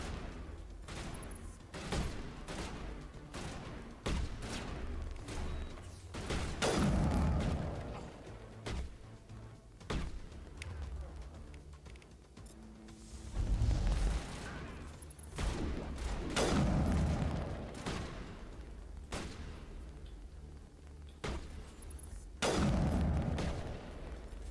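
Sniper fire in the Mass Effect video game, sharp booming shots ringing out at irregular intervals, each with a heavy thump and decaying tail over quieter game ambience.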